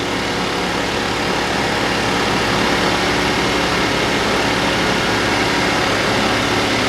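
A Champion 2000-watt inverter generator runs in regular, non-economy mode with a steady, loud engine drone held throughout, close and continuous with no speech.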